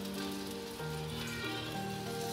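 A garlic paratha frying in oil in a pan over low heat, a close, continuous crackling sizzle without talk.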